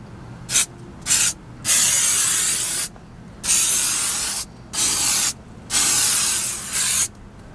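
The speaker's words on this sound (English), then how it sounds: "I do spray a little silicone" Aerosol silicone lubricant sprayed onto an RV hydraulic slide-out track: about seven close, loud hissing bursts, some quick puffs and some held for a second or more, separated by short silences.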